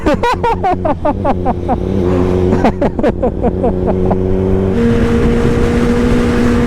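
A motorcycle exhaust revs repeatedly in sharp, rising bursts inside a shopping mall, loud and close, then settles into a steady droning idle.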